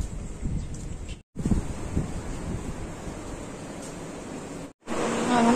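Hot wind gusting outdoors, a steady broadband rush with microphone buffeting that drops out briefly twice, carrying on loud and unbroken with no voices.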